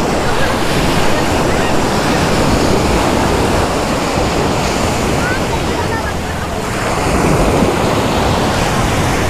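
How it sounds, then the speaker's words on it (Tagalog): Ocean surf on a beach at Caoayan, Ilocos Sur, a loud continuous wash of breaking waves with wind buffeting the microphone, the roar easing briefly before swelling again. "Yun, marang hahampas din yung tubig dito mga kagala."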